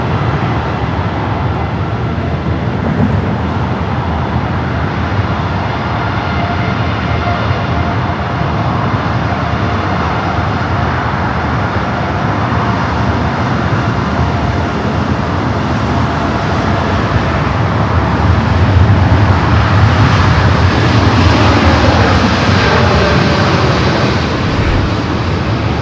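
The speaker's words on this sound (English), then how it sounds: "We do have that Dreamliner now rolling down." A Boeing 787 Dreamliner rolls down runway 24 left at Los Angeles International Airport, a steady broadband jet roar that holds for about 26 seconds and swells slightly near the end, with no voices.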